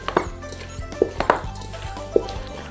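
Thin strips of pork skin scrubbed by hand with salt, cooking wine and baking soda in a basin, giving irregular close knocks and clunks against the basin over a wet, rustling background, with no talking.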